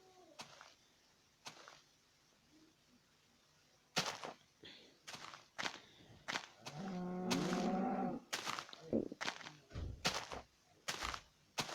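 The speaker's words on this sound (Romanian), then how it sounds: "Îți țipă vacile alea." Cows mooing in Minecraft PE, a drawn-out moo near the middle among sharp clicks and thumps, with soft talk in the background.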